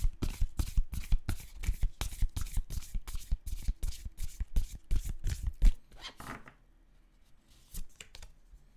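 Oracle cards are shuffled by hand in a quick, rhythmic run of crisp riffling slaps that stops abruptly, followed by a few softer card taps in near silence.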